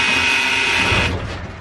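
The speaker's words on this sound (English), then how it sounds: "And just wait for the time the door closes." Doors of a small Budapest metro train slide shut with a close, loud mechanical whir that runs for about a second before cutting off into quieter station ambience.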